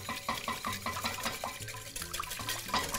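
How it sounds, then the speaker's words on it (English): Eggs whisked in a bowl, a quick rhythmic series of close clinking and sloshing strokes continuing steadily. "So we're just whisking these eggs."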